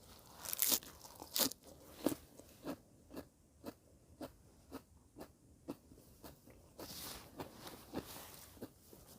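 Raw vegetables, a flower head and stalk, bitten and chewed up close: a steady run of crisp crunches, louder snaps at the start and end with quieter rhythmic chewing in between, no talk.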